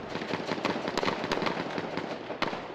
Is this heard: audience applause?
no